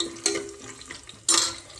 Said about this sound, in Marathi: आता शेंगदाणे टाकले